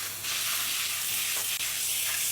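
Water added to a pan of catfish curry with potato and papaya sizzles and hisses steadily up close, a brief continuous frying sound.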